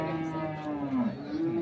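A bull or cow at a busy rural cattle market gives one long, drawn-out low moo, loud and close, with faint crowd chatter around it.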